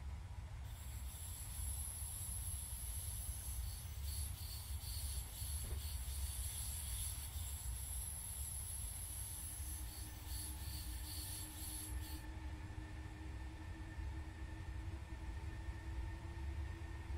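A BR 624 diesel railcar in Train Simulator pulls away from a station on the run to Tutzing, with a long steady rolling hiss, high metallic wheel squeal, and rising engine tones as it gathers speed.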